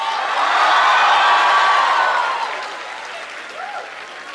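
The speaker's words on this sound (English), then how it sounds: "A huge round of applause to you guys on behalf of our class." University students in a large hall give a loud, sustained round of applause that swells for about two seconds and then thins out, with a few whoops mixed in.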